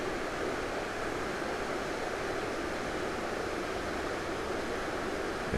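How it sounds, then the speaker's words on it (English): Rapids on a creek below a dam and reservoir rush in a steady, broad wash of water noise, constant and moderately loud with no voices. "But some nice rapids."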